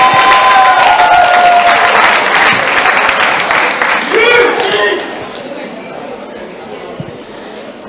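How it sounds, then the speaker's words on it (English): A studio audience at a Ghanaian television awards presentation bursts into loud, dense applause as a prize winner heads to the stage, then the clapping thins out and fades into softer crowd murmur. "A round of applause, please, as Mr. Kojoyanka joins us on stage."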